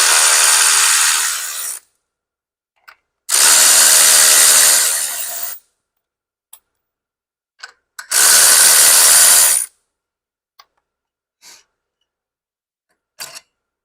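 A power tool spins off the clutch pressure plate nuts on a Harley motorcycle in three loud, sustained whirring bursts of roughly two seconds each, separated by quiet gaps with faint clicks and small taps.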